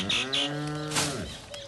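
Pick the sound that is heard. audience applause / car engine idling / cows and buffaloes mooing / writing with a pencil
cows and buffaloes mooing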